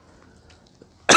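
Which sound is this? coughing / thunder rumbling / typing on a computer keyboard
coughing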